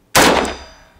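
One loud, sharp AK-47 rifle gunshot cracks and then trails off in a decaying echo.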